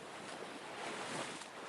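Steady broadband wash of surf breaking on a Hawaiian beach, mixed with wind rushing across the microphone, continuous and fairly loud with no voices.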